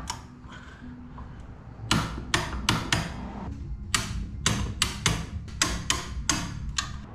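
Close, crisp metallic clicks ring out from a torque wrench tightening M10 exhaust manifold bolts on a Steed Speed manifold for a first-generation Cummins engine, about a dozen sharp ticks in quick, uneven succession over a quiet background.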